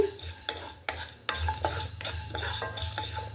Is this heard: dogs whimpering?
no